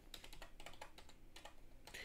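Someone types on a computer keyboard to log in to Twitter, producing a steady run of soft, quick key clicks with short pauses, faint and close.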